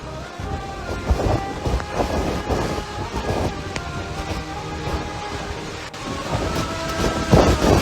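Heavy rain pours down in a dense, continuous roar, with low thunder rumbling through it and occasional gusts of wind.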